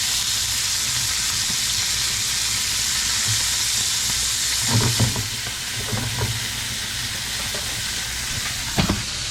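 Pot of rice boiling for a home-cooked lunch, a steady close hiss of steam and bubbling with a few soft clinks and bumps, no talk.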